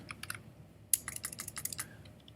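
Quick, uneven keystrokes clatter on a computer keyboard, close and crisp, with scattered taps at first and then a denser burst of typing before it trails off, no voices.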